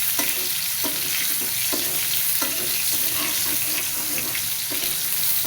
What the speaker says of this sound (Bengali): হালকা লবণ হালকা হলুদ দিয়ে পটল লাল লাল করে ভেজে নেব